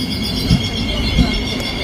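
A large passenger train bound for Opava rumbles nearby, with a steady low rolling drone and a couple of soft wheel thumps over a short stretch.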